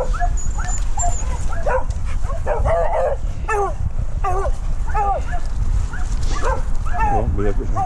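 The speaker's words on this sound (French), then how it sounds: "c'est un grand chien" A large dog at a kennel area vocalizes close by in a run of short barks mixed with higher yips and whines, repeating irregularly throughout.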